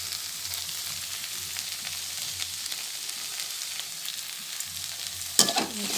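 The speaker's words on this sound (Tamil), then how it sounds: "கிளறி விட்டுக்கிடணும், ஏன்னா கீழே வந்து பிடிச்சிடும், அடி பிடிச்சிடும்" Okra gravy being stirred in a pan so it doesn't stick to the bottom, giving a soft continuous sizzle with faint scraping, close and steady, ending in a sharper clatter of the spoon against the pan.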